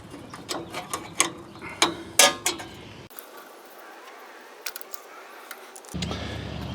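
A ratcheting wrench clicks in quick bursts of sharp metallic ticks while loosening the carburetor bowl nut on a Tecumseh Snow King snowblower engine, then the clicking gives way to a few faint knocks and handling sounds.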